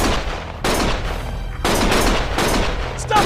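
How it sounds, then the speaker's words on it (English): Gunfire in the Lost Judgment video game: loud bursts of rapid shots in clustered volleys separated by brief lulls, with a sharper report near the end. "Stop shooting!"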